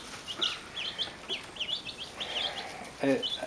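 A small flock of chickens, including a spotted-winged hen, clucks and chirps nearby in a run shared with ducks, with short overlapping calls scattered throughout and a louder burst near the end.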